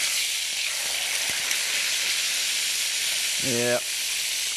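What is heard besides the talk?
butter sizzling in a hot pan with veal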